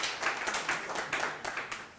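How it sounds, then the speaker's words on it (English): Audience at a conference and expo gives a round of applause, a dense run of many hands clapping at fairly close range, steady then thinning toward the end. "A round of applause as he leads us."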